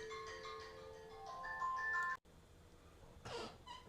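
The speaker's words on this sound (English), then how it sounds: "I apologize, but that was an alarm I had set for something else." A phone alarm rings with a quiet, melodic ringtone of repeating tonal notes, stops abruptly partway through, and is followed by near silence and a brief rustling burst.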